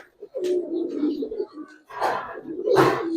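Pigeons at a Bangladeshi pigeon seller's, silver Pakistani high flyers and Giribaz coloured birds, give low throaty coos in a few bursts, close by, with brief rustling between calls.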